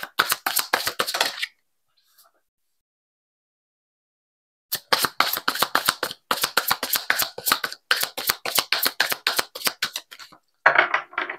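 Tarot cards being shuffled for a reading, loud close rapid riffling clicks in bursts, a long silent pause, then a longer run of brisk card flicks and a final rustle.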